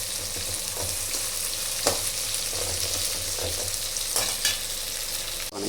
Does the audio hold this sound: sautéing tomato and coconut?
yes